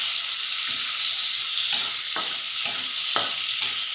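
Small chopped onion frying in a spoonful of oil in a kadhai, a steady close sizzle with a few soft stirring scrapes at regular intervals, no voices.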